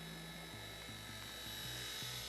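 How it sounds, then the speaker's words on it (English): A helicopter in flight produces a faint, steady engine whine with a low, rhythmic rotor pulse repeating throughout, heard alone without voices. "When I tell you that I love these damn helicopters, I mean it."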